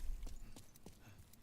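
Horse hooves clip-clop in a few spaced, moderately faint beats during Demon's Souls Remake gameplay, set against low background rumble.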